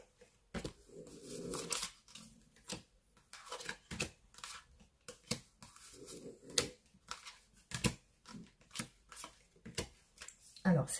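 Tarot cards being shuffled and drawn at a reading, brisk papery riffles and flicks arriving in short separated bursts, close and moderately loud, with a voice speaking between and over them.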